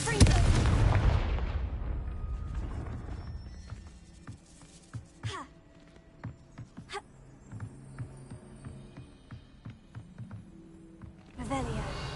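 Confringo fire spell explosions in Hogwarts Legacy: a loud, booming blast opens and rumbles away over a few seconds, followed by quieter scattered impacts and clatter, then another burst near the end.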